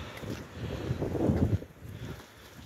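Strong winter wind buffets a rural village during a blizzard, a steady broadband roar with gusts swelling and easing over a few seconds, rumbling low and close against the microphone.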